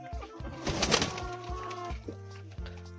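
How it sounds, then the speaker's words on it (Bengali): Fancy pigeons kept for sale coo nearby in soft, low, throaty bursts, several overlapping calls in a loose rhythm. "দুটোই ভালো পাখি"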